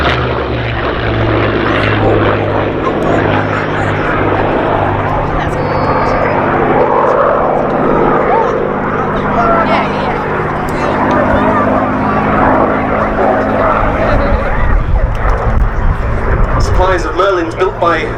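A Merlin-engined P-51 Mustang flies at the Duxford Air Festival 2019, its propeller engine a loud, sustained drone that swells and fades as it passes, with a voice talking over it.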